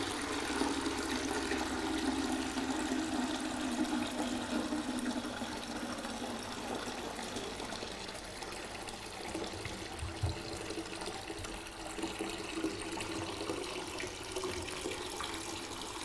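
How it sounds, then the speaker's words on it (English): Water is poured off freshly washed farmhouse butter in Ireland, a continuous splashing, trickling flow that runs steadily for several seconds at close range. "Now I will leave off the first lot of water."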